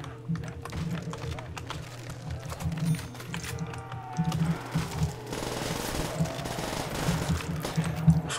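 Rapid automatic fire from the Reaper gun in Call of Duty Zombies, a fast rattling burst stream that runs through most of the stretch, loud and close over a steady game backdrop with a low hum underneath.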